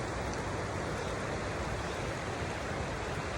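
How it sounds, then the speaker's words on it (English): A creek swollen with rainy-season water flows through a backyard in Upper Bidwell, Chico, California, making a steady, continuous rush of broadband water noise with no pauses and no voices. "to the creek, which is full of water because it is a very rainy time at this moment"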